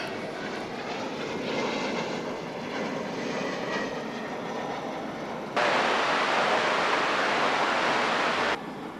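An American Eagle airliner taxiing toward runway 18 left at Dallas/Fort Worth Airport produces a steady jet engine rumble, with a sudden louder, brighter hiss for a few seconds near the end before it drops back.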